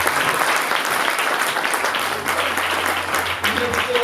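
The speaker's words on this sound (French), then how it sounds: "On va applaudir," Guests at a civil wedding ceremony clap right after the vows, a loud, steady wash of applause lasting a few seconds with some voices mingled beneath.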